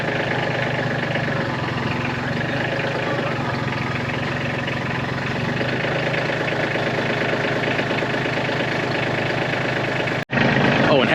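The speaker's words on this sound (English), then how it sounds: "come in here with the tractor with the forks, come up underneath it" A shop tractor fitted with forks idles nearby with a steady, unbroken rumble, cutting out for a split second near the end before resuming.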